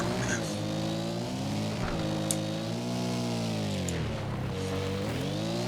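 Buggy engine in the MX vs. ATV All Out racing game, a steady loud drone whose pitch rises and falls as the throttle shifts, with no one talking over it.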